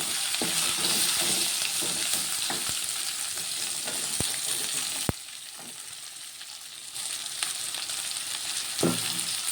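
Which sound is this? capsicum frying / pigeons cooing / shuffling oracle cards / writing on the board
capsicum frying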